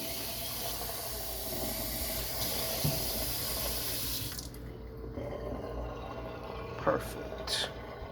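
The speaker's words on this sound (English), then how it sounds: "Gotta add a little bit of water." Tap water running into a bowl of leftover food, a steady hissing pour that stops partway, followed by a couple of light clinks and handling sounds at close range.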